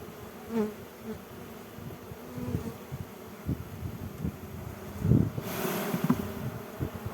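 Steady droning buzz of many honey bees close around a hive, with a louder swell near the end over faint wind.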